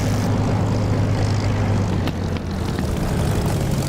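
A Spitfire's propeller engine roars steadily at full power for takeoff in the DCS flight simulator game, a loud, dense, unbroken drone with a deep low hum throughout.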